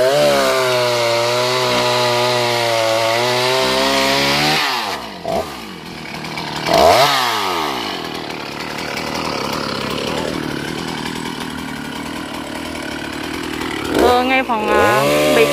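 A chainsaw cuts through the trunk of a tall coconut tree, its engine whining at a steady pitch, then dropping and rising again as it bites into the wood, loud and close with brief pauses.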